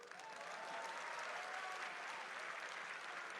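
A conference forum audience applauds steadily, a dense, even wash of clapping from many hands that holds at constant strength throughout, heard at a moderate distance with no voices over it.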